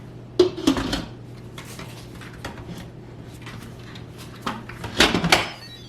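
An Instant Pot lid set onto the cooker, several close metallic clanks and scrapes with quieter shuffling between them over a steady low hum.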